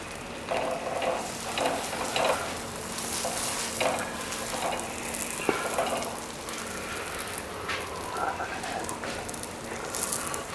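Kulcha roasting in butter on a hot griddle for Punjabi street-food chole kulche, a steady close sizzle broken by light scraping and stirring clicks throughout.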